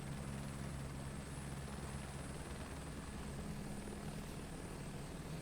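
Helicopter in flight in Microsoft Flight Simulator 2024 over Rotorua, a steady low rotor drone with a constant tonal hum, unbroken and even throughout with no talking.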